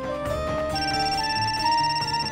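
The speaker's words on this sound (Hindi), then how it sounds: "फोन उठाओ, देखो किसका है।" A telephone rings in a home with an electronic ringtone of sustained tones shifting in pitch, loud and close, with no speech over it.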